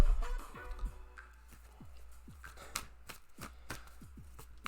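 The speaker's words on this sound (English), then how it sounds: "I'm going to shuffle your cards." Tarot cards being shuffled by hand, a run of soft riffling slaps and crisp card snaps at an irregular pace, close and fairly quiet with faint low background hum.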